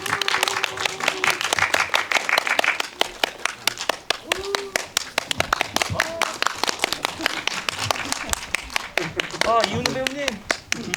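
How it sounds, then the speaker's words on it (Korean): Audience applause welcomes the director Sabu and three actors onto the stage at an indie talk event for the Korean film 'Under Your Bed', a steady wash of clapping running throughout, with a host's voice speaking over it. "큰 박수로 맞이하겠습니다"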